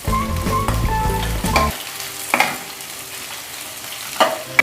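Cabbage and other vegetables stir-fry in hot oil for Chinese noodles, with a loud crackling sizzle for the first couple of seconds. Quieter scrapes and a few sharp ladle knocks follow, and no one talks.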